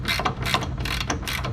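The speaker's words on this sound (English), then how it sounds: "next go ahead and remove the caliper bolts." Ratchet wrench clicking as 13/16 caliper bolts are loosened on a second-generation Dodge Ram 1500 during a wheel hub bearing job; steady, close mechanical ratcheting in several bursts with no talk.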